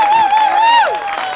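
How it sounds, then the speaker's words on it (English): A crowd at an England v Scotland football match cheers for a young player, a loud, close burst of whooping and shouting with a high sustained call over it. "Go on, cheer him."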